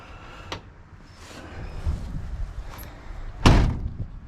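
A 1964 Ford Galaxie car door, a factory R-code 427 car, shuts with one solid, close thunk, preceded by a few lighter handling clicks and knocks.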